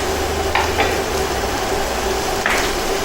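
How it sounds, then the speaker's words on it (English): Ground meat sizzles steadily in a pan for a paleo shepherd's pie, a constant close frying hiss with a few brief stirring scrapes and no talk. "so nice and sizzly, yum"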